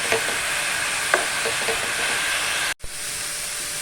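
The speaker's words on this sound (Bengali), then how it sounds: "এইটা ভাজা ভাজা করতে করতে, মানে কষতে কষতে যেটুকুন জল বেরোবে, ওটাতেই বিটটা ভালোভাবে সিদ্ধ হয়ে যাবে" Grated beetroot fries over a medium flame in a pan for Bengali beetroot jhuri bhaja, a steady close sizzle broken by light scraping stirs, then a brief sharp cut in the sound.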